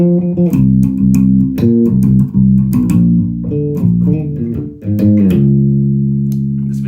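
A bass guitar plays a lick up close, with a run of loud, plucked low notes in a quick, bouncing line that ends on a long sustained tone.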